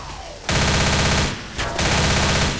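Shotgun fire in the video game Left 4 Dead comes as loud, close bursts of rapid gunfire, a sustained volley broken by a short pause before another burst, with no talk over it.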